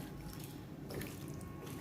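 Water poured into a pan of mushi (shark) fish masala with onion and coconut paste, giving a steady, close rushing trickle throughout.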